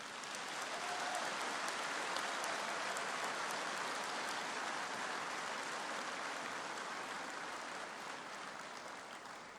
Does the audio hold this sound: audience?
yes